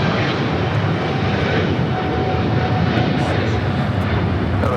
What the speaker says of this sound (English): China Eastern Airlines 586 taking off to Shanghai on this 777-300ER.